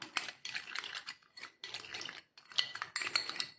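A few drops of honey are mixed into a homemade face cream in a small bowl, making faint, quick scraping and clinking strokes in short bursts with brief gaps.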